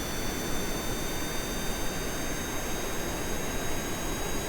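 A jet-style aircraft engine in Kerbal Space Program roars at full power on a short takeoff run, a loud, steady broadband rush with a faint high whine over it.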